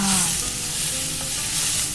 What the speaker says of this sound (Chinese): 鸡胸肉已经煎得好香了。